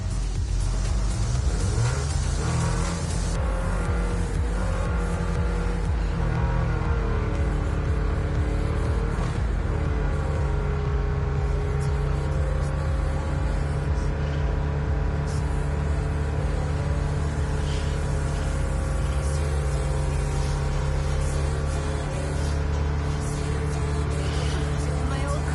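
Car engine roars steadily at high speed in the video game Neverness to Everness, with a continuous loud rumble and rising revs throughout, under a speaking voice and background music.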